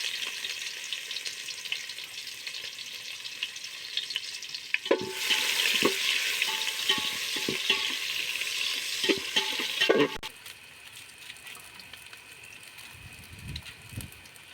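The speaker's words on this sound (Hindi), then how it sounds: "प्याज भुंजा गइल बा।" Onions frying in a pan with cardamom and cloves for chicken dal tadka, a steady sizzle with stirring scrapes that swells louder for several seconds mid-clip, then drops back to a quieter hiss.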